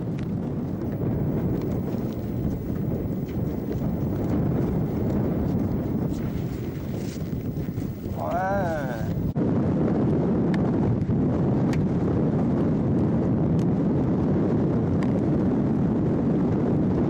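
Strong Arctic wind at Resolute Bay roars steadily and loudly into the microphone, a dense continuous rush with a brief higher whistling sweep partway through and no speech.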